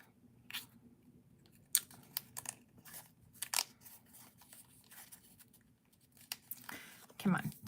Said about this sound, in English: Let me cut this first.